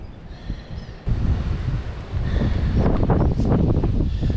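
Strong gusty wind blows by a creek, roaring across the microphone and swelling louder partway through, with a rushing, water-like texture and no talking.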